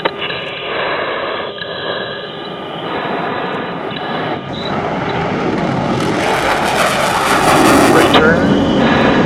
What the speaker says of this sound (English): There she is. We're airborne. Gear is coming up.